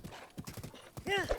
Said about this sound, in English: Can I summon my horse on this ledge?